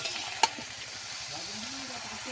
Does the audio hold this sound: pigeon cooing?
no